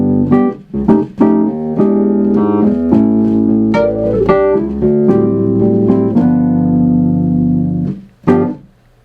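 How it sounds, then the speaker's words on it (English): Dry Wurlitzer electric piano voice (EP2 Model 1) on a Nord Stage 2 with no effects, playing sustained chords with struck attacks, a few quick accented notes at the start and a final stab after a brief pause. "right now I've just got the Wurlitzer dialed up"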